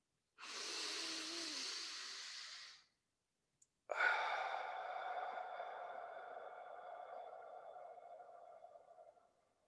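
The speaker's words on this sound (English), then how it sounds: "So we'll do 3 big breaths in through the nose, out through the mouth, like we're fogging up a mirror." Two deep breaths during a guided breathing exercise, a long breath drawn in through the nose and then a strong exhale through the mouth, close and clear, with a short silence between them.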